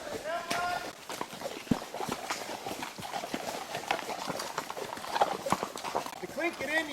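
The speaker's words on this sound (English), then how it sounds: "Riding on the horse." Horse hooves clip-clop steadily along an outdoor trail ride in Alaska, a near, irregular patter of hoofbeats running throughout as people talk over them.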